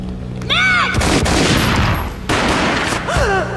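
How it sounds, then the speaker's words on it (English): Loud, dense bursts of gunfire from the Max Payne video game crackle almost without a break, with brief tonal vocal sounds at the start and end. "A gunshot boomed and she fell down in slow motion."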